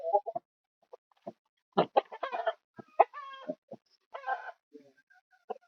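Chickens cluck in short scattered bursts at a village farm, with a few brief squawks between quiet gaps, close by and fairly clear.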